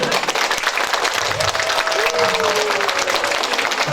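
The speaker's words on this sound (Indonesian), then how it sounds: "Tepuk tangan" Dense, loud applause from a crowd at a ceremony marking National Elderly Day in Indonesia, continuous and full throughout, with a faint tonal whine running underneath.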